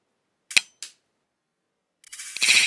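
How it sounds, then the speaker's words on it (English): A Lego Star Wars Mandalorian N1 Starfighter fires a small Lego missile from its underside with a sharp plastic snap. Two brief clicks come first, then a louder rattling clatter as the missile lands, with no talk. "If you press the button on the top, it shoots a little Lego laser missile thing out the bottom."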